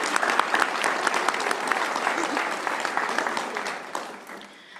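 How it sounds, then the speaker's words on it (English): A room at a school board of education meeting breaks into a round of applause, a steady patter of many hands clapping that slowly thins and fades toward the end. "I just want to give them a round of applause."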